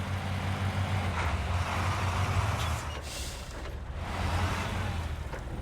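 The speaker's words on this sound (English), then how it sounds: "This is at the vehicle full throttle." In SnowRunner, an Azov XDH truck runs its engine at full throttle with a loud, deep rumble that briefly eases in the middle and then builds again.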